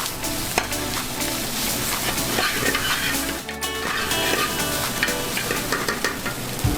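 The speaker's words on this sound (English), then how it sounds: "We give the rice a stir." Rice gets stirred in a hot, sizzling pan, a steady loud fry hiss with scraping strokes and faint utensil clinks, one brief lull midway, no voices.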